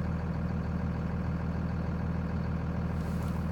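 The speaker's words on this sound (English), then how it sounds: "Listen how quiet this truck's gonna get." A Cummins six-speed diesel truck engine idles close by, a quiet, even low rumble that holds steady with no revving.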